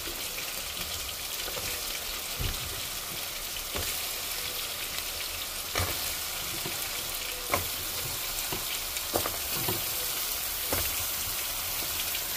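Vegetables fry in a cooked spice paste for a Bengali hilsa fish curry, giving a steady, close crackling sizzle with occasional sharper pops and spatters throughout, no talking.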